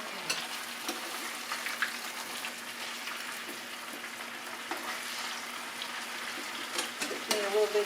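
Sliced potatoes fry in a pan with a steady, close hiss and crackle, broken by occasional scrapes and knocks of a spoon stirring them, with no talk.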